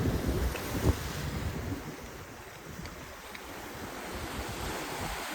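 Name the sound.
sea waves coming in at high tide on a beach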